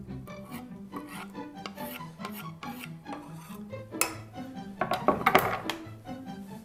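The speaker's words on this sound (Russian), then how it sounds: "На мелкой терке натираю сыр" A block of cheese is rubbed across a fine metal grater, giving a steady run of raspy scraping strokes at an even rhythm. The strokes come close and fairly soft, growing a little louder and busier near the end.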